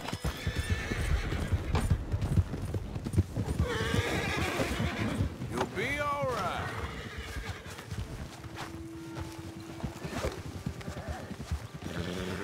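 Horses in Red Dead Redemption 2 whinny and neigh loudly over a rapid clatter of hooves, the neighs rising and falling while the galloping fades toward the end.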